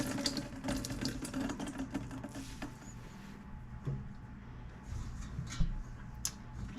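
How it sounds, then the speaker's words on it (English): Water trickles and drips as homemade cream cheese is squeezed, a quiet, uneven splashing with small patters, close by and without talk. "I'm gonna squeeze out all the extra water."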